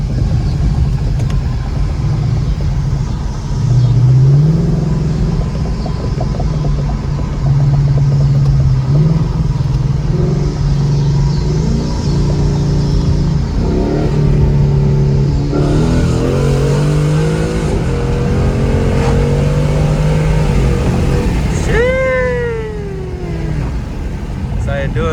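A 2019 Mustang GT with an X-pipe exhaust growls and revs through repeated rises and drops in sport mode during a city drive, loud and close. Tire noise and brief squeals come near the end, and someone talks over parts of it.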